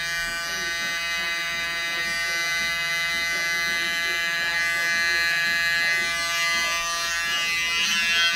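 Electric hair clippers cut a hair design in a barbershop, giving a loud, continuous, steady buzzing drone with slight shifts in tone as the blades move through the hair, and no talk over it.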